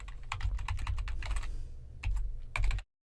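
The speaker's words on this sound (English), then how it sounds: "I'll type in my password" Password keys are tapped on a computer keyboard in a quick, close run of light clicks with a brief pause before a final burst, then silence.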